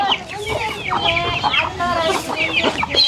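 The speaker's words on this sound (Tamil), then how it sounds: "எவ்வளோ கோழி இருக்குங்க" A flock of chickens clucking continuously on a self-sustaining farm, many overlapping calls close by, busy and steady throughout.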